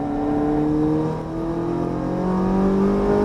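A Ferrari 458 Italia accelerates hard on a Las Vegas race track, its engine note rising steadily in pitch with a brief dip before climbing again, loud and close throughout.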